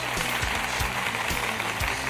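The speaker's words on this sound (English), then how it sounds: "Audience, we need some live applause, please." A live studio audience on a comedy news show breaks into applause, a continuous dense clatter of clapping with a few heavier thumps, steady and fairly close throughout.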